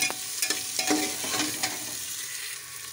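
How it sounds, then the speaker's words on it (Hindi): Chopped carrots, potatoes and other vegetables for veg pulao fry in a pan, a soft continuous sizzle broken by several quick stirring scrapes close by, with no talking. "सभी सब्जियों को 2-2 मिनट तक भून लें।"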